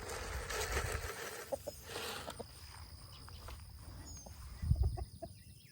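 Chickens cluck softly outdoors on a small farm garden, a few short scattered calls over steady insect and cricket hum, with footsteps and rustling nearby.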